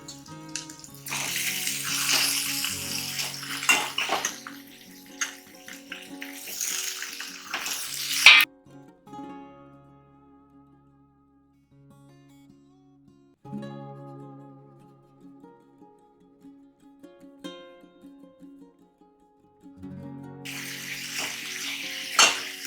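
Paneer pieces added to a hot pan for Malabar-style paneer, giving a loud bright sizzle that fades to quiet frying, then flares up again near the end.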